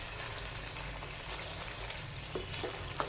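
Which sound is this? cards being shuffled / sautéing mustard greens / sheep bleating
sautéing mustard greens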